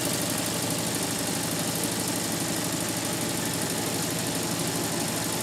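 An engine runs inside a workshop, a constant, dense droning rumble with no change in pace, moderately loud and heard alone.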